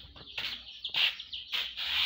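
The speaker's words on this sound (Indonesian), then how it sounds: "Inilah ayam-ayam Mamang Alko yang dipanggil aja bisa ngikut dia" Chickens being called by a keeper cluck and squawk in quick, overlapping bursts close by, with no talking.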